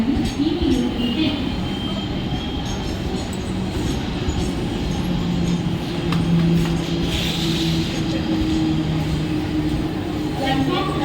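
A Kalyan-bound slow suburban local train pulls into platform 1 of a busy Indian railway station, its heavy rolling rumble steady and close, with wheel squeals and clatter rising over the noise and voices murmuring in the background.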